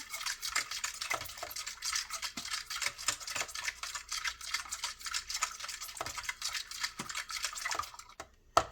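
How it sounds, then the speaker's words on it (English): A spoon scrapes steadily around a bowl as a salted batter mixture is stirred until incorporated, a continuous close swishing with light knocks against the sides and no voices. "you just stir this until it's well incorporated"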